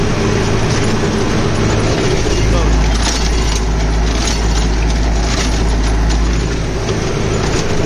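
A Mahindra 595 DI Turbo tractor engine runs at about 1000 rpm in third low gear with both levers fully down, a loud, steady diesel rumble that continues throughout without a break.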